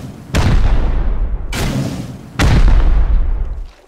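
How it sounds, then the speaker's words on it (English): Three heavy rocket-launcher blasts from a video game, each a sharp loud boom trailing into a long rumbling decay, spaced roughly a second apart and heard alone without talk. "I love the sound of this fucking rocket launcher."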